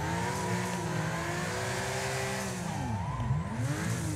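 A Nissan R33 Skyline drifting in Wreckfest, its engine revving loud and close with pitch rising and then swooping down and back up as the car slides.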